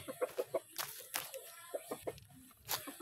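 Chickens on a Filipino farm cluck in short, quick bursts near at hand, with a few sharper calls mixed in over a quiet background.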